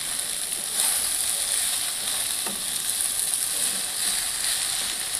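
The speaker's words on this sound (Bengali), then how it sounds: "এবার আমি পালং শাকটা উপরে নিচ করে নাড়াচাড়া করে দেবো।" Spinach and taro stirred in a hot frying pan, a continuous close sizzle with soft scraping and turning sounds and no voices.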